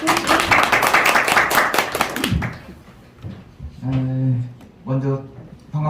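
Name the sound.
audience clapping to welcome a speaker at a lecture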